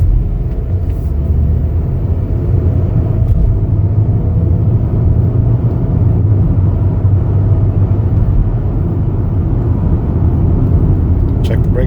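A 2021 Chevrolet Equinox LT's engine and road noise rumble steadily from inside the cabin on a test drive, a continuous low drone throughout.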